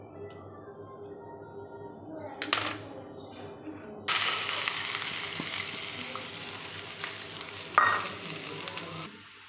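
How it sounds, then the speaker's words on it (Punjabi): Dal tadka tempering with green chilli sizzles in a pan, first quiet with a few clinks, then bursting into a loud, steady frying hiss with stirring scrapes and a sharp utensil clank near the end. "ਜਿਹੜੀ ਹੁਣ ਕੁੱਕਰ 'ਚ ਦਾਲ ਆ ਉਹਨੂੰ ਆਪਾਂ ਤੜਕਾ ਲਾ ਲਾਂਗੇ ਜੀ"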